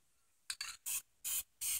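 Aerosol spray paint can hissing onto canvas in four short bursts, the last three longer and louder, close by with no talk.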